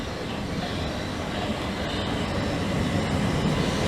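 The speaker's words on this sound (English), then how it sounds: "train now approaching platform 2 does not stop here" A train runs through Grove Park station without stopping, a steady, fairly loud rumble and rush of wheels and carriages that holds evenly for the whole stretch.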